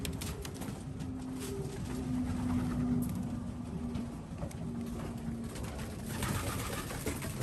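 Racing pigeons coo inside their loft, soft repeated throaty calls over a low ambient hum, steady and fairly near.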